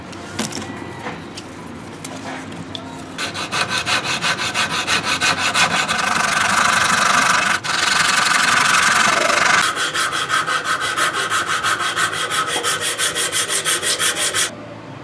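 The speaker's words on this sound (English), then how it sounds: "now I'm going to use low grit sandpaper and smooth out all of those rough spots" Coarse low-grit sandpaper rubbing over a hand-carved wooden chipmunk lure, heard as fast, steady back-and-forth strokes that are close and loud for most of the stretch, with no talking.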